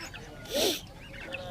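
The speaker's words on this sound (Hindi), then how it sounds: "ये देखें, ये बटेरे हैं।" Quail at a bird market in Abu Araish, Jazan, Saudi Arabia give one short, clear call at mid distance, rising out of steady market background noise.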